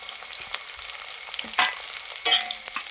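Green chillies, garlic, ginger, tomato and cashews roasting in a pan, a continuous close sizzle broken by a few sharp stirring scrapes and louder spits, no talking.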